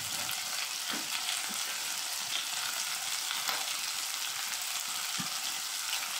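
Chicken cubes fry in a pan with a dense, even sizzle that holds steady throughout, broken by occasional soft taps from stirring.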